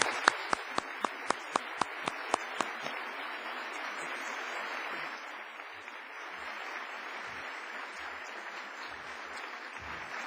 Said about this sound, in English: Ladies and gentlemen, please join me in applauding our very honorable guests.